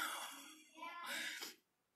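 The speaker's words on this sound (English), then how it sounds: "My cat just hissed at me." A domestic cat gives a short, breathy hiss of about half a second, close by, following a brief vocal sound in a quiet room.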